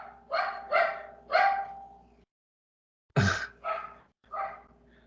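Several dogs bark in short bursts, three loud barks followed by a pause and then three more, fairly close and alone with no talking over them.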